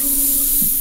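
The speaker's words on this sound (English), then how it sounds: "this has got to spray through a tiny little fine tip nozzle" An airbrush with a fine tip nozzle sprays thinned acrylic paint, a loud, close, steady hiss with a low hum underneath, continuous for under a second.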